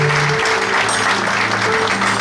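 Sustained audience applause and cheering at a church-style art exhibition opening, loud and continuous, with a held musical tone underneath.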